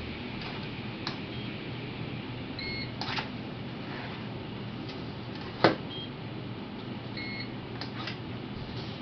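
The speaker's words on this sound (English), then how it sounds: "You take a measurement of a surface by just pushing down and waiting to hear 2 beeps" Faint electronic beeps from a light reflectance meter pressed onto a surface sound a few times over a steady low hum, with one sharp click near the middle.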